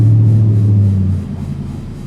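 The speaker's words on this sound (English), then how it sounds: "I hate people with loud cars." A loud car passes nearby, its deep engine rumble strong at first, then dropping away after about a second.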